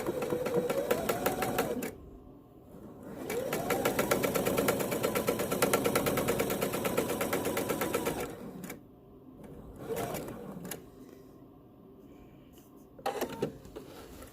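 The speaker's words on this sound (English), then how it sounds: "You're going to use a straight stitch, and because I'm not going to back stitch, I'm going to shorten the stitch length quite a bit." Sewing machine running a straight stitch at shortened stitch length while making double fold binding strip, a steady rapid whirring run of about six seconds, then short bursts with pauses between.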